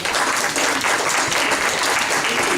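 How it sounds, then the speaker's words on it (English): Audience applause at a church Black History Month program, a steady, dense wash of many hands clapping at even loudness throughout, with no voices on top. "So let's give them another round of applause."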